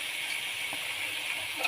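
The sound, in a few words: chayote being added to a cooking pot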